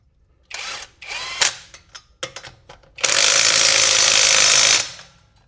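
A generic cordless impact wrench fastens a car wheel back on: a few short, stuttering bursts of hammering rattle, then one long, loud sustained run of rapid impacts before it stops.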